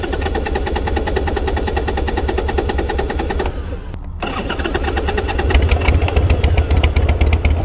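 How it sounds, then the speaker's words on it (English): A cheap auction Harley-Davidson motorcycle engine cranks with a rapid, loud mechanical chatter, stumbles briefly, then fires and settles into a steady, close idle with no voice over it. "All right, let's see if this thing fires up."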